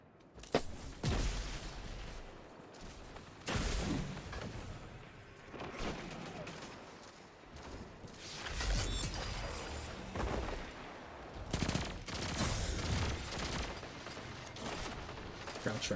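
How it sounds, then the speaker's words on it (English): The Disparity weapon fires repeated bursts in the video game Destiny 2, sharp clustered cracks and booms in irregular volleys amid other combat sounds, loud and close with quieter gaps between. "This weapon can 2-burst, but it's much easier to 2-burst whenever you have the kill clip procced."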